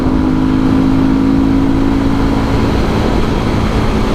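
A Beta motorcycle engine runs close and loud, holding a dense, even roar for a few seconds with no talk.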